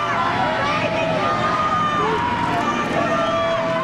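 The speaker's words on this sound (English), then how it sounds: "crowds of protesters erupted in anger" Angry crowd of protesters outside a jail as a woman leaves in an SUV, a loud, dense babble of shouting voices with some louder yells rising above the din throughout.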